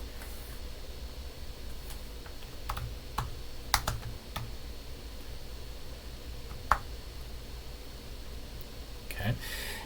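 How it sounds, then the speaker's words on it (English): Computer keyboard typing at a desk during a spreadsheet tutorial: a few scattered, quiet key clicks over a low steady room hiss, ending with a brief burst of keystrokes. "I'm now going to type the word index."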